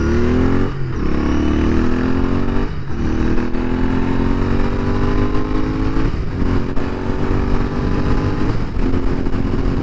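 Royal Enfield Interceptor 650 motorcycle accelerating hard through the gears, engine note rising repeatedly with brief dips at each shift, loud and close with steady wind rush throughout.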